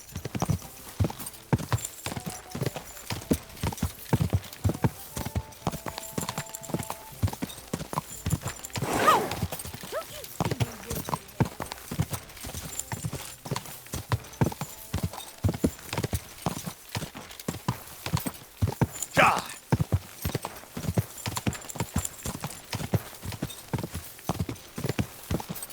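Horse hooves gallop in the video game Kingdom Come: Deliverance II, a fast, steady clip-clop rhythm that continues throughout, with a couple of brief louder swells along the way.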